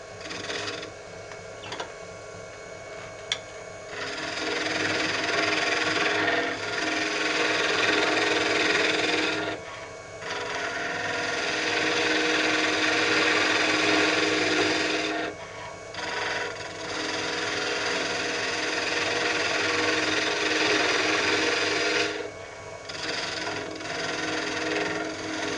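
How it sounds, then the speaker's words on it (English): A skew chisel cuts wood on a lathe while turning a small pill toy, giving a continuous loud buzzing, whirring scrape that comes and goes in long passes with brief dips between cuts. "all right, I'm just gonna use the skew."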